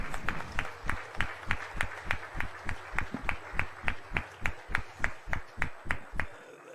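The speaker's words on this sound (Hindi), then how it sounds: "सर काइंडली जोरदार तालियां हो जाएं सभी संस्थाओं के तरफ से।" Audience applause at a felicitation ceremony in a hall, heard as steady, evenly spaced rhythmic claps, close and fairly loud, continuing for several seconds with no talking.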